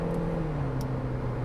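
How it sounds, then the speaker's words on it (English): A Suzuki Jimny 4x4 engine works hard at 120 km/h on the road, a steady low drone with a sustained hum inside the cabin, wind rushing over it and a brief whoosh partway through. "Listen to the engine at this speed"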